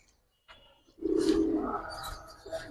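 Sapchila pigeons coo nearby: a short soft sound, then a low throaty rolling coo lasting about a second, followed by fainter burbling calls.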